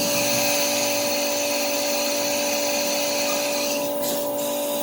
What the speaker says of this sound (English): Now we're going to countersink those holes for flathead screws